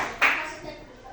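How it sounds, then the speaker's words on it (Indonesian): Brief burst of hand clapping from a class of schoolchildren, a short sharp flurry that quickly fades, with a teacher's voice talking over and after it. "Tepuk tangan untuk Ripat yang mau bertanya."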